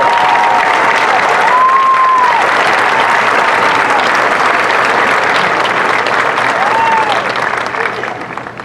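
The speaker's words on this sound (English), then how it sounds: "Join me in giving them a round of applause for their service and dedication to our students in school." A large graduation audience at Pickens High School applauds school staff, a sustained, loud, dense roar of clapping with a few scattered cheers, steady until it begins to thin and fade near the end.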